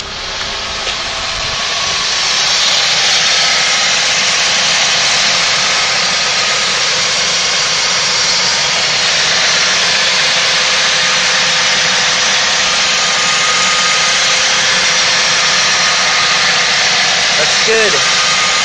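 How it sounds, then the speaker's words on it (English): A car engine runs steadily at idle for the whole stretch, a loud, broad, even roar with little change in pitch, recorded up close in an engine bay with no talk over it. "let's go check out the engine"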